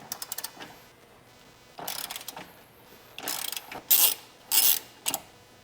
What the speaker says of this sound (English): From the top, we will now remove these 2 bolts, which are E17, and this will be on both sides.